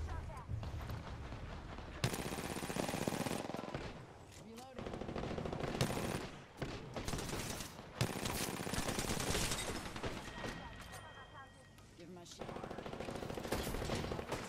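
Apex Legends gunfight with sustained automatic weapon fire and blasts from a grenade, dense and loud, with voices talking underneath.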